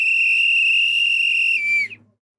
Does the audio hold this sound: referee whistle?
yes